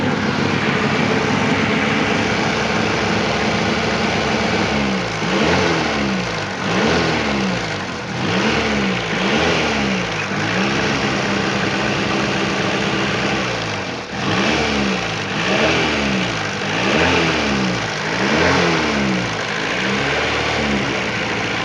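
An older Honda Civic engine, prepared for emissions testing, revs repeatedly in rhythmic surges over a steady idle, loud and close, with a moderately quiet exhaust.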